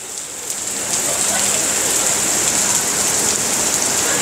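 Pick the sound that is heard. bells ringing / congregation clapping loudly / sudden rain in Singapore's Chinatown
sudden rain in Singapore's Chinatown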